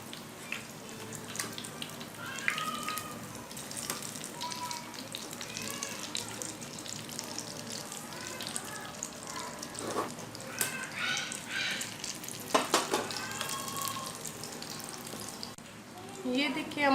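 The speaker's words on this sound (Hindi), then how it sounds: "ये हमारे शामी कबाब की एक साइड फ्राई हो चुकी है" Shami kababs fry in a shallow pan with a continuous crackling sizzle, punctuated by a few clinks and spatula scrapes, and faint voice-like sounds now and then.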